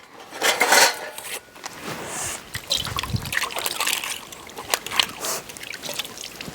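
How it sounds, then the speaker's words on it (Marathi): Dishes, pots and pans are washed by hand at home, with running water trickling, splashes, and metal utensils clinking and scraping in irregular bursts at moderate volume. "अगं भांडी नीट नीटकी धू"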